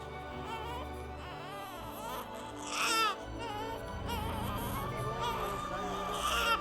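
A newborn baby cries in repeated wailing bursts, loud and close, rising sharply near the middle, with a faint low background hum and no clear talking.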